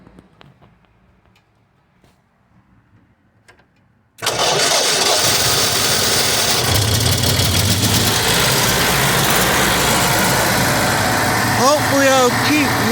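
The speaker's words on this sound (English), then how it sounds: "8600 RPM because it's a two-pole two-pole generator. Well, actually, it's an alternator." A two-pole generator head, an alternator, starts abruptly and runs at 8600 RPM, a loud steady engine drone that fills the space alone after a few quiet seconds.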